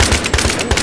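G3 battle rifle fire in a video game, rapid cracking shots in quick repeated bursts, loud and close with a dense, rattling rhythm.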